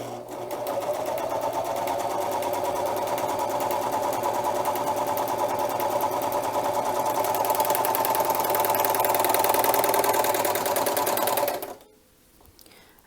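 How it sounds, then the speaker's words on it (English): A serger sewing machine runs steadily for about twelve seconds, stitching ribbon with a wire fed along its edge and chaining off over the wire's end, a loud, close, fast mechanical whir that stops abruptly near the end. "we're just going to continue stitching, and when you chain off, go over the end of the wire as well"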